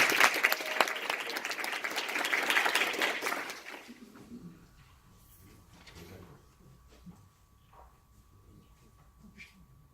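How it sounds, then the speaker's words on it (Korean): Audience applause after a teacher's introduction at a lecture event, a dense burst of clapping for about four seconds that then fades into quiet room noise with faint movement. "큰 박수 부탁드립니다."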